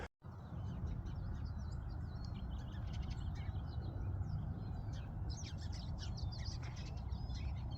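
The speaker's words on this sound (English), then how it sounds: "I'm picking up the chirping birds on this camera" Outdoor trail by a swamp with many small birds chirping and tweeting in quick scattered calls, fairly faint over a steady breezy background hiss.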